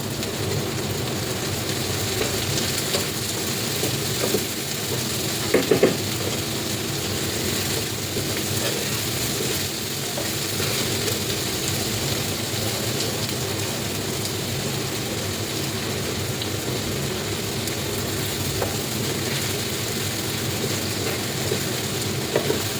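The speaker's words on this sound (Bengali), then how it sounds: "পেঁয়াজটা একটু বেরেস্তা করে নেব" Onions sizzling in hot oil as they are fried slowly toward a medium golden brown, a steady dense crackle and hiss that runs throughout, close and even, with a couple of brief louder pops.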